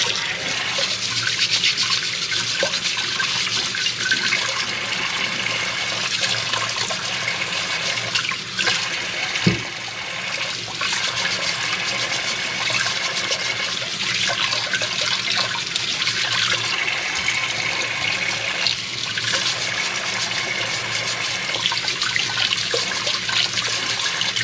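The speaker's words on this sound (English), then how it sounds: "We'll give them a quick rinse run" Tap water runs steadily into a sink as potatoes are rinsed, a continuous hissing splash that holds throughout with a brief knock partway through.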